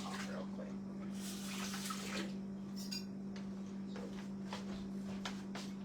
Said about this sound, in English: I'll wash that knife off